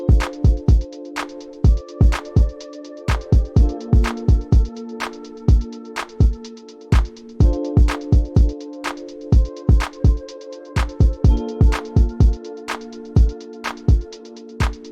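Dancehall beat programmed in FL Studio with a staggered hi-hat pattern, looping steadily for about fifteen seconds. Punchy kicks and percussion hits land in a syncopated rhythm over sustained tonal layers, loud and alone with no talking.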